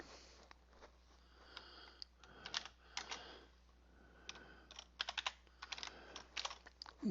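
Keystrokes on a computer keyboard come in quick, uneven bursts of close clicks over a faint steady hum, entering text into form fields such as a name and email address.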